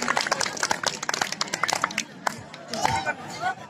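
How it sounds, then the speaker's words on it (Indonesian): An audience at a school scouting arts show claps for a traditional dance performance by Mts Yunisma Kencong, brisk scattered clapping mixed with crowd chatter and a voice talking over it. "Kasih tepuk tangannya dong."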